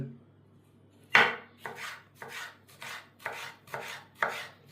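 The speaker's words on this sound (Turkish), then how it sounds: "Şöyle doğrayıp ince ince." A knife chops a red pepper finely and rapidly on a cutting board, about seven sharp, evenly spaced knocks close up, with no talking.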